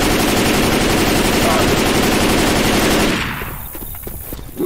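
Rapid automatic gunfire blasts against a charger in Left 4 Dead 2, a dense, loud sustained burst lasting about three seconds before cutting off into quieter game noise.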